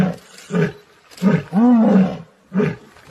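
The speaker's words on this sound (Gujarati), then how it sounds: "આ તકરારમાં તમે જુઓ કે સિંહણ કેવી ગર્જના કરે છે" Asiatic lions in Gir forest trade a series of deep, loud roars and grunts. Short bursts come in a rough rhythm, with one longer roar in the middle, close and with no voices.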